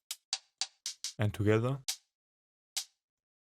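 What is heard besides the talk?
layered hi-hat samples, individually then together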